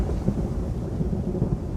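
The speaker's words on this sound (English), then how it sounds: "Ariel goes to the ship and makes a tempest with wind and rain" Storm at sea with rolling thunder, wind and rain, a steady low rumble with a rushing wash of rain, no voices.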